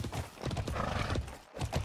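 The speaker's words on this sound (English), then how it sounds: "He's the biggest horse that I've seen." Horse hooves in the video game Alicia Online clip-clop quickly and steadily along with a neigh, a soft, busy run of hoof beats playing alone with no talk.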